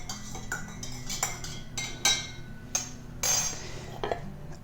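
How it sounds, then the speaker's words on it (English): A cocktail with fresh lemon stirred over ice, giving a run of close, bright clinks and taps of spoon against ice and glass, irregular and separated by short quiet gaps. "Give it a nice little stir."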